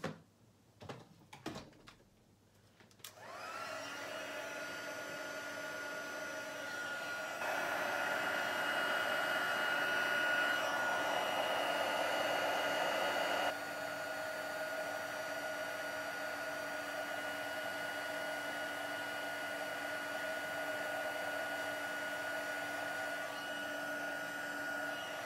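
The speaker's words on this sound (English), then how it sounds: "We're going to pop the heat tool on that really quickly just to melt it." After a few knocks and clatters, a heat tool blows a steady, fairly quiet hiss of air to melt white embossing powder, the tone rising slightly for a few seconds midway and then settling.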